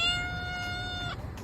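A single drawn-out cat meow, clear and fairly close, with a steady tonal wail that ends in a short downward trail. There is no talk over it.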